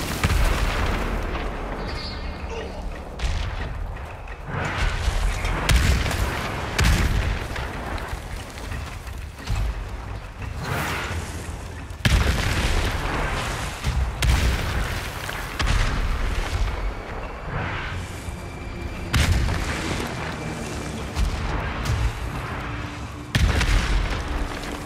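Explosions and cannon fire from a battle in the game Ghost of Tsushima, set on Iki Island, with heavy booms landing in steady succession under a dense roar of combat throughout.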